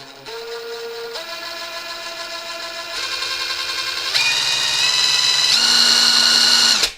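A LYUWO LW-LDD60 cordless impact wrench whines as it tightens, stepping up in pitch through several speed stages over about seven seconds, loud and close with no talk.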